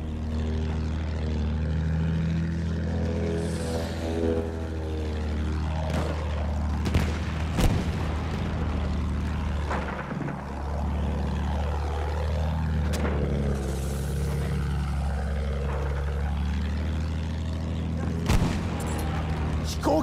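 Propeller aircraft droning steadily overhead in a Battlefield 1 battle, a loud engine hum with passing swells, broken by booms and bursts of gunfire, with voices talking underneath.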